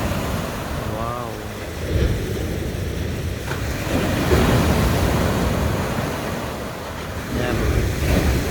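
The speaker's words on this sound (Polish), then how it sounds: "zobacz teraz fale" Sea waves wash ashore at Sainte-Maxime, a broad rolling surf that swells and fades in surges, mixed with gusty wind buffeting the microphone and brief voices.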